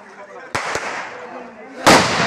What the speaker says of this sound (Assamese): দেখিছেই নহয় ফটকাৰ জোৰ কেনে